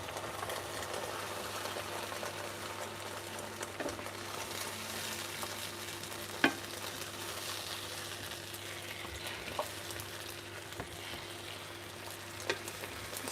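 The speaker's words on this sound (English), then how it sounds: "Sort of just follow the egg as it's like cooking around the edges" Eggs frying in a pan for a rose omelette, a low steady sizzle with occasional faint taps of a utensil, quiet and even with no talking.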